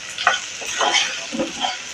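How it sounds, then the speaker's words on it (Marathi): Rice roasting with salt and whole spices in a pan for pomegranate rice, a few soft scraping stirs and a light sizzle close by, fairly quiet with no talking. "तर हे आपण चांगले तांदूळ व्यवस्थित भाजून घ्यायचे"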